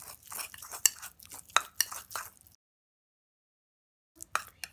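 Soft clinks and sticky stirring as honey is mixed into a cucumber gel scrub in a small bowl, a few seconds of faint scraping taps, then silence and a couple of last light knocks.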